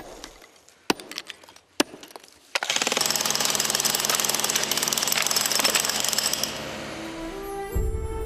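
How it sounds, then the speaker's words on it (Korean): Hammer blows knock hardened sand off a newly cast bronze Buddhist temple bell, a copy of the Emille Bell, in a workshop; a few sharp isolated strikes, then a dense loud clattering stretch of rapid chipping that fades toward the end. "망치질이 계속되는 동안 점차 범종의 모습이 드러난다."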